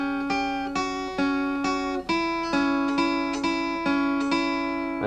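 Acoustic blues guitar plays repeated triplet figures with clear plucked strings ringing, each group accenting its first note on the beat, close and steady for about five seconds with no talking.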